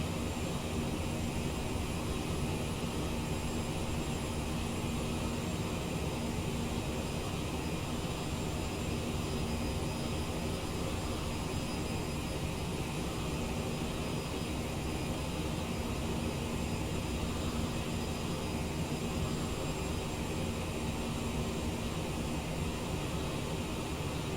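Steady, unbroken roar of CRJ900 jet engines in cruise after a climb, still accelerating, from a flight simulator game, filling the whole stretch at an even level with no talk over it.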